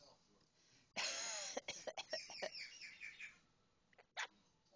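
A pet parrot perched on a shoulder lets out a sudden, loud burst of harsh coughing and throat-clearing sounds. Several shorter raspy coughs follow, and one more sharp cough comes near the end. The bird's owner speaks softly nearby.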